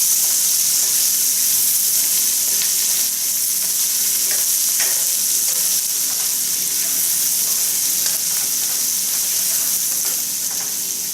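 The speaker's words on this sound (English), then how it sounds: "if you're using onion, go ahead and stir fry that along with the garlic" Onion and garlic stir-frying in a pan for green beans give a steady close sizzle, with occasional scrapes and stirring clicks throughout and no talk.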